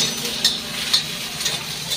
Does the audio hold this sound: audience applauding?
no